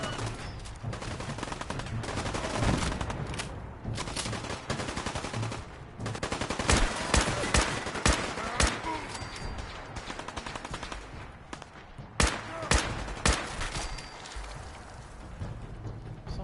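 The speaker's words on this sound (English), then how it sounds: "Somebody was shooting us out over here" Dense gunfire in Fallout 4 survival play: rapid automatic bursts and heavy single shots overlap almost continuously, loud and close, with sharp cracks standing out among the sustained firing.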